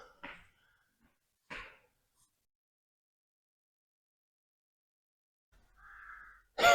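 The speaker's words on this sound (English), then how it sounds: "Then there's the inevitable crow." Three harsh crow caws, widely spaced with long quiet gaps between them, in an otherwise still, hushed setting inside a church.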